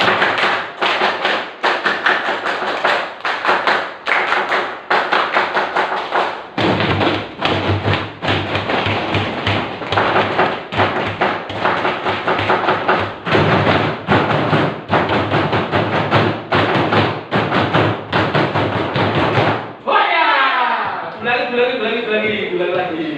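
A school class performs a scout rhythm chant, clapping, pounding and slamming desks in a repeated sharp pattern of loud thumps and taps, voices chanting along, before a teacher speaks at the end.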